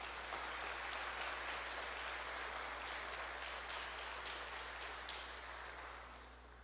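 A congregation claps in a church, a steady wash of applause heard from a distance that fades slightly toward the end, with no voices.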